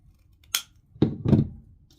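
A few crisp snips of scissors cutting material while making a Valentine's wreath, heard close up as a quick cut followed after a short pause by a longer double snip, with no talking.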